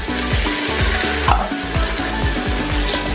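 Paneer masala is stirred and fried in a pan, with a steady loud sizzle and the rhythmic scrape of a spatula repeating about every quarter second throughout, no voices.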